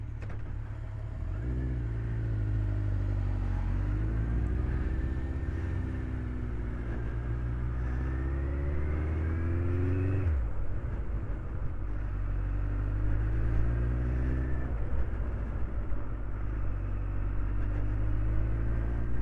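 A Suzuki GSX 1400 motorcycle engine runs steadily on a test ride, its deep humming tone rising and falling as it revs up, briefly drops off, then climbs again, loud and close throughout.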